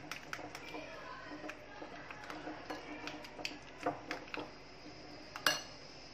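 Two eggs are beaten in a bowl, with a utensil clinking and scraping against the sides in quick irregular taps and one sharper knock near the end, over a soft background hiss.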